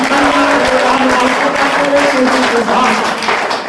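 Audience applause at a large Hindi poetry gathering (kavi sammelan), a dense loud wash of clapping running throughout with a sustained voice or tone carrying over it.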